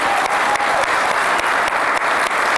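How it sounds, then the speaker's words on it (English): Audience at an evening celebration marking 40 years of the Amiga, giving a big round of applause to Amiga Corp and Commodore engineers; dense, loud, continuous clapping fills the room without pause. "So I'd like to give a big round of applause to all of our Amiga Corp and Commodore engineers who are here today."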